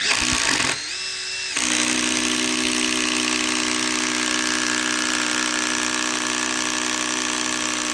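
A Makita impact driver bores holes, its steady motor whine running loud and close for several seconds after a brief change in pitch near the start, with no talk over it.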